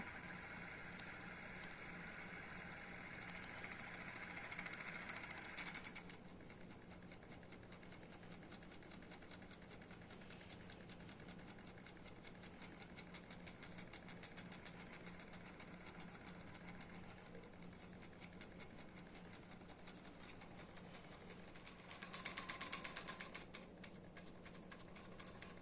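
A small speed-adjustable Ringbom-Stirling engine with a vertical flywheel turns slowly, giving a steady, faint mechanical whirring hum with fine ticking, and a brief louder rattle near the end.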